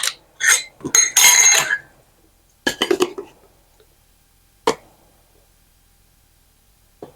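Eggs and grated Parmesan being stirred together in a bowl, giving short bursts of clinking and scraping with pauses between, close by and fairly loud, followed by a single sharp knock.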